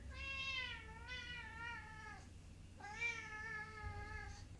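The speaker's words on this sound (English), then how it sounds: "You might hear our cat in the background." A pet cat meows indoors, three drawn-out, tonal cries with a short gap before the last, fairly faint against a low room hum and no speech.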